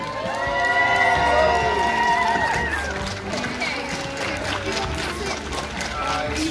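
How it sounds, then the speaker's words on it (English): An audience at a Comic-Con cosplay contest, the Masquerade, cheers and applauds its winners; a steady wash of clapping and shouts follows an announcer's voice at the start. "Can we have a big round of applause for all of our winners and honourable mentions and everyone who competed on the"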